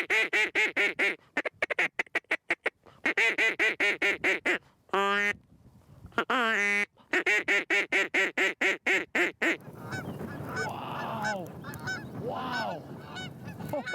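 A hand-blown duck call imitates ducks in a wintry outdoor setting, sharp rapid quacking bursts in rhythmic runs with short pauses and a couple of drawn-out honks, then softer, busier quacking over a low background rumble.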